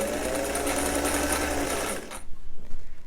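A sewing machine stitches a shirttail hem with a steady, fast mechanical whir for about two seconds, then stops, followed by soft handling sounds.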